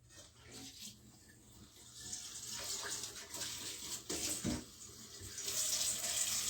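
Tap water runs steadily into a kitchen sink during home cooking prep, a continuous broad hiss that swells louder toward the end, with no talk over it.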